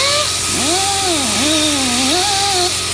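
A high-speed power tool polishes an aluminum ring for a 2015 Silverado A-pillar, whining loud and close with a pitch that swoops and wavers as pressure changes.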